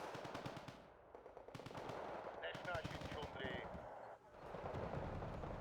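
Rapid automatic gunfire in an online ranked multiplayer war video game, dense bursts of shots running nearly throughout, with a voice talking over it.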